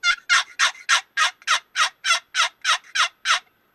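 A wooden box call is stroked fast to imitate a turkey gobble, producing a quick run of about a dozen raspy, evenly spaced yelps. The sound is loud and close, with nothing else heard.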